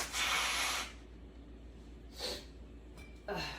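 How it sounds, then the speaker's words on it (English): A person blows their nose, a loud breathy burst of about a second near the start, followed by two shorter nasal blasts later, all close and without talk. "I grab my thingy, I blow my nose"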